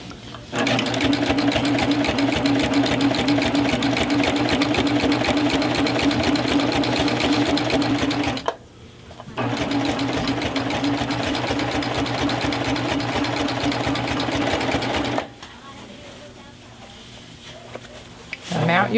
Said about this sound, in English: So I've got my serger ready to serge.